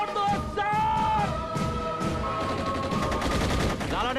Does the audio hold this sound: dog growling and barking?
no